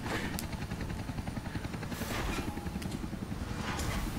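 Helicopter in the video game Gears of War: a continuous rotor chop with a steady pulsing beat over a low engine rumble, fairly loud and unbroken, with no speech.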